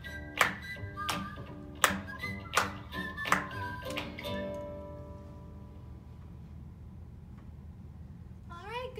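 A few hands clap along to a children's storytime song, five or six sharp, close claps in an uneven rhythm, then a quiet room tone with a faint voice near the end.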